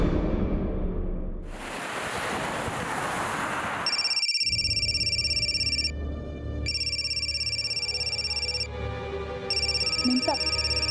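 Electronic telephone ringtone chiming in repeated bursts with short gaps, following a wash of noise, in an indoor scene aboard a ship; the ringing is loud and close.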